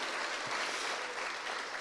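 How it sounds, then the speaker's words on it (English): An audience at a nursing school convocation applauds, a dense, even burst of clapping heard from within the crowd. "Big round of applause."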